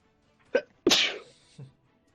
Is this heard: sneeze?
yes